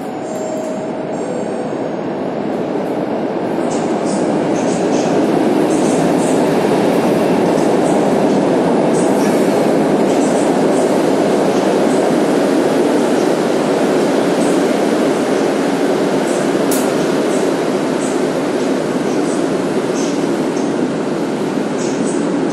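The IC Czartoryski intercity train pulls into Warszawa Centralna station with a loud, steady rumble and roar of wheels on rail. Faint high squeals and clicks sound over it, and no one speaks.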